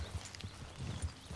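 Horse hooves clip-clopping in Red Dead Redemption II, a series of soft, low hoof thuds in an irregular walking rhythm, fairly faint and heard on their own without talk.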